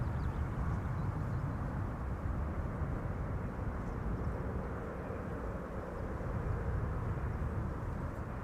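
A Ryanair Boeing 737 arriving at Amsterdam Schiphol gives off a continuous low, rumbling engine roar, steady and moderately loud from start to finish, with no voices.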